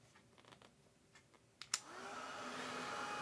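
A hair dryer switches on to dry a watercolor painting after a few quiet clicks and handling noises, then blows in a steady whooshing hum that continues to the end.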